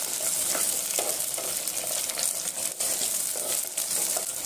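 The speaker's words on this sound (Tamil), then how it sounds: "இப்போ வந்து வச்சிருக்கேன் சின்ன வெங்காயம் சேர்த்துக்கலாம். சேர்த்து நல்லா வதக்கிக்கோங்க." Small onions sauté in hot oil in a frying pan, giving a steady close sizzle with faint stirring scrapes throughout, no voices.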